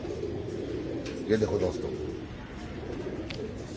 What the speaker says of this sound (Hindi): ये चंद्र खानी कबूतर है ओरिजिनल ब्लड लाइन।